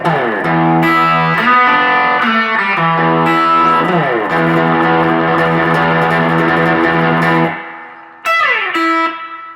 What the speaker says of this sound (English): I've got the Tech 21 and then the Fender reverb tank, 63 reverb tank I'm using there